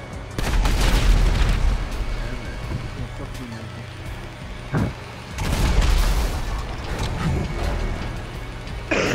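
In GTA 5, a rocket slams into a tank, setting off heavy booming blasts followed by a second rolling explosion, loud and near, mixed with gunfire and rumbling game noise while a player talks over it.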